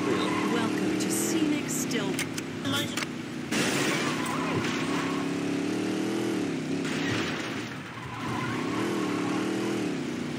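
Car engine droning in the video game Saints Row 2, a steady hum with rising and falling revs across the whole stretch, overlaid by a voice talking.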